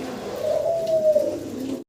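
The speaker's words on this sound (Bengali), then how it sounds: "খুব চমৎকার মাসাল্লাহ কোয়ালিটির একজোড়া রেড কালারের লাহরি কবুতর আছে এখানে" A pair of red Lahori pigeons coos in one steady, close, low rolling call that lasts nearly two seconds before cutting off.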